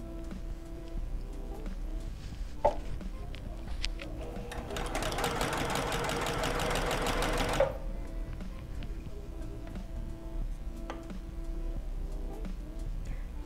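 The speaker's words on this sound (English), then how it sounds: "Make sure you take out your pins because we don't want to cause any trouble with our sewing machine." A sewing machine stitches activewear fabric in one steady, buzzing run of about three seconds, close and clear, with quiet room noise before and after.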